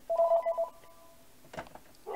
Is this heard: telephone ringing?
yes